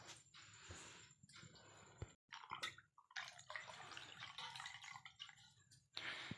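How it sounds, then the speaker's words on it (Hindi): Water poured into a jug at home at night, a faint splashing and trickling pour with irregular surges and brief pauses, quiet and close. "और यहाँ पे मैं जग में पानी ले ली।"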